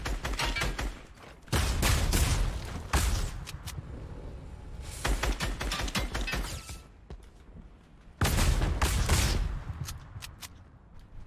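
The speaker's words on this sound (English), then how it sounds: "Oh, he's still shooting." An opponent fires at the player in Fortnite. Three loud bursts of rapid gunfire are separated by quieter stretches of scattered shots and game noise.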